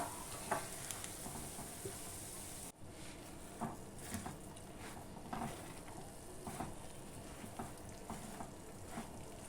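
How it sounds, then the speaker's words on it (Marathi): Puffed rice being stirred through sticky jaggery in a pan off the heat, with soft repeated scraping and rustling strokes at a steady rhythm, close but faint. "आता ह्या लाह्या ज्या आहेत या सगळ्या गुळामध्ये कोट झाल्या पाहिजेत हे असं फिरवताना"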